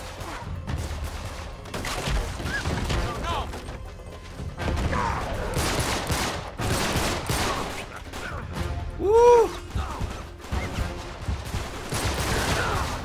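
Shotgun and other gunfire in the video game Uncharted 3: Drake's Deception, with repeated loud blasts and crashes in an ongoing firefight, plus scattered game effects.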